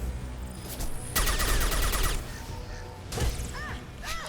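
Rapid bursts of Locust submachine gun fire in a Mass Effect 2 firefight, crackling in short rattling volleys with mechanical clanks and whooshes between them, fairly loud and up close.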